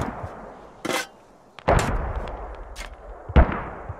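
Mortar rounds in a tactical shooter game land in separate heavy booms, a sharp crack near the start, then a loud blast with a rumbling tail and another hit near the end, with no talk.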